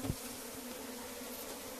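Stinging honeybees buzzing during a hive transfer, a dense, steady hum from a mass of bees filling a container, close and continuous after a brief knock, with no voices.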